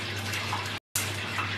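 Tap water pours steadily into a cooking pot with a broad hiss, cut by a brief silence midway before the flow resumes, close and without voices.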